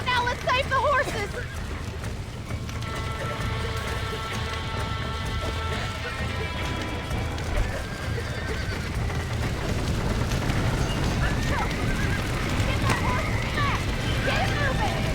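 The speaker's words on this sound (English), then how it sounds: "Now let's save the horses!" Horses in Red Dead Redemption neighing and whinnying near at hand, with hooves clopping along under ongoing game noise, a voice speaking over it at times.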